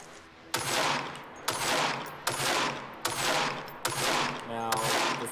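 ULA sniper rifle shots in the sci-fi shooter Angels Fall First, six loud sharp cracks evenly spaced under a second apart, each followed by a ringing decaying tail and mechanical clinks.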